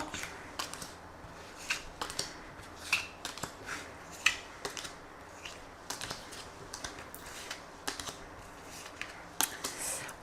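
Tarot cards shuffled and drawn during a reading, heard as a run of light, quick papery flicks and taps. They come in irregular bursts throughout, close and fairly quiet, with no voices.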